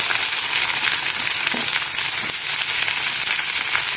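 Garlic cloves and a small piece of ginger frying in a pan, a loud, dense, continuous sizzle with faint scraping clicks running through it.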